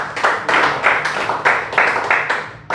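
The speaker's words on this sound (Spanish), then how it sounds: "Bríndele un fuerte aplauso al Señor por eso." A church congregation claps in a tight, rhythmic group, with about ten loud, evenly spaced bursts of hand claps in close succession.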